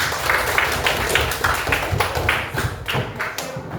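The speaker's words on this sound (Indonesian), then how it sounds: "Tepuk tangan untuk kita semuanya." A group of children clap their hands together during a classroom activity, a dense, steady run of sharp claps filling the room with no talking over it.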